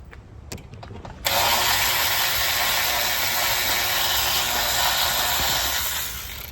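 A power driver removes screws from a light assembly on an INEOS vehicle. After a few faint clicks, the driver whirs loud and steady for about five seconds and then tapers off.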